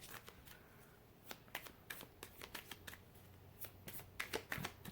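Tarot cards are shuffled by hand close by in a quiet room, giving quick papery riffles and soft slaps in irregular bursts that pick up toward the end; faint and alone, with no talking.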